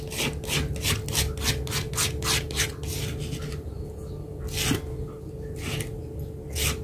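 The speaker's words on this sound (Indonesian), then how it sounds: "Kita ulek ya" Sambal chili paste is ground in a stone mortar with a pestle while making chicken-feet soto: a dozen or so steady, close, rasping rub strokes in a regular back-and-forth rhythm, with a brief pause midway.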